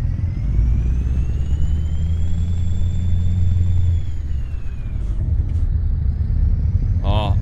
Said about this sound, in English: Oh, I could listen to this truck all day.